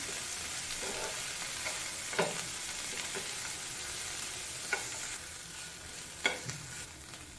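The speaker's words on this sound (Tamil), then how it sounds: "அந்த எண்ணெயில் ஒரு 2 நிமிஷம் வதக்கினா போதும்" Mint leaves and chopped green chillies sauté in hot oil, giving a soft, steady sizzle broken by occasional scrapes and clacks of a stirring spoon against the pan.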